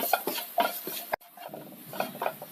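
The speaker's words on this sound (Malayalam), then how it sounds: "ഇതിൻ്റെ പച്ചപ്പ് മാറുന്നത് വരെ ഒന്ന് വഴറ്റണം." Chilli powder, pepper powder and chicken masala sautéed in a pan for a red chicken curry, heard as close, rhythmic scraping and stirring strokes with a faint sizzle, a brief gap midway.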